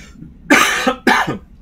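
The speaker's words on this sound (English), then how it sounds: "I apologize for coughing." Two sharp, loud coughs close to the microphone, about half a second apart, each with a short raspy tail, with no talk.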